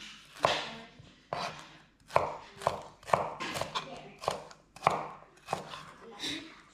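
A knife slices vegetables lengthwise on a cutting board in sharp, close, evenly spaced chops, about a dozen strokes with brief gaps between them.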